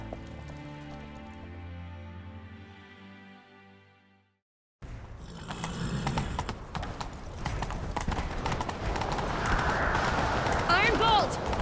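In the video game The Witcher 3: Wild Hunt, orchestral music fades out, then horse hooves gallop in a fast, continuous clip-clop under game ambience, close and steady to the end.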